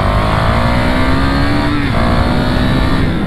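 A KTM Duke 200 motorcycle engine accelerating, heard close up as a loud, steady drone whose pitch climbs through the revs, dips briefly at a gear change, then rises again over wind noise.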